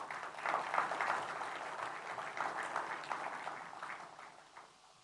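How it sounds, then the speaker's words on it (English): Audience applause for visiting Chinese investors and business leaders at a formal welcome event, a steady wash of clapping throughout that fades slightly toward the end, with no speech over it. "Let's give them a big applause."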